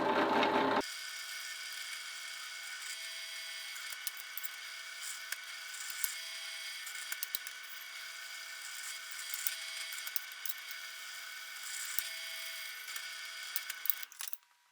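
A drill bores number 7 holes through 1/8 inch material clamped down in a workshop, a steady high whine running nearly continuously after a brief louder start, with small clicks scattered throughout and no talking.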